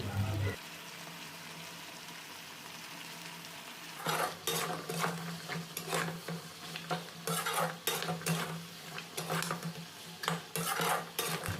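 Chicken feet curry being stirred and sautéed in a pan, with a steady low sizzle, then a long run of busy scraping and clinking as a utensil works the pan.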